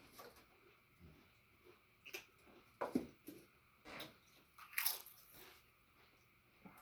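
An R&M Hunter Reversair ceiling fan, Robbins & Myers Type 23821, running with a crunching fault: irregular faint crunches and clicks repeat over several seconds against a quiet background.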